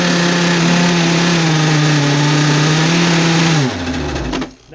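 A cold engine after start-up idles fast and loud with a steady hum, then the pitch drops and the running note winds down near the end.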